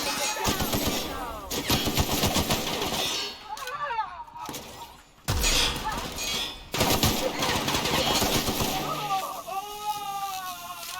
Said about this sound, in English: Looks like we're gonna shoot our way in.